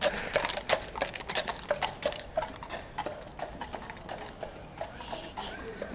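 Hooves of a large horse clip-clopping in a steady, even rhythm of sharp knocks, fairly close and continuous for several seconds; no snort stands out clearly.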